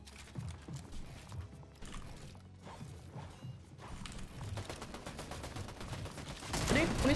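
A weapon is reloaded in Fortnite, with clicking, ratcheting mechanical sounds amid scattered game gunfire and action noise, building louder toward the end, as players talk over it.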